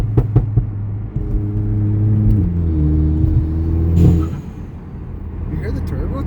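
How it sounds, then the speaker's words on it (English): Turbocharged engine of a VW MK7.5 GTI with an EQT tune, droning and building under acceleration from inside the car, steady and fairly loud, with people talking over it. "You hear the turbo? Turbo's going nuts right now."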